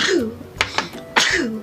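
A sharp sneeze close by, quick bursts between brief vocal sounds, with a short voiced exclamation at the start and end.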